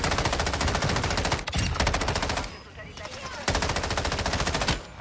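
Rapid automatic fire from an M13B assault rifle in Warzone 2, loud and close in long sustained bursts with a couple of brief pauses, mixed with game sound effects.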